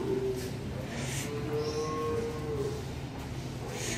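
Cows low at a dairy farm near the calf housing, with a long drawn-out moo rising and falling over steady barn noise and no talk.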